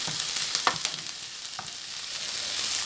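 Zucchini sautéing with onions in a pan makes a close, even frying hiss with a few sharp stirring clicks near the start and no one speaking.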